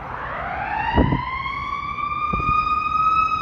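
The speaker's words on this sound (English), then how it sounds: "There we got the 42 ambulance heading through here." An ambulance siren wails steadily on a Chicago city street near Clark Street at midday in February, loud and close over traffic rumble, with a couple of thuds from passing vehicles.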